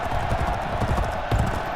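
Racehorses galloping in the video game G1 Jockey 4, a steady, loud stream of pounding hoofbeats under a continuous crowd-like roar, without a break across the short stretch.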